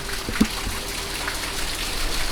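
Hurricane Laura rain falls steadily with gusting wind in a soft, continuous patter and hiss, with one brief knock near the start.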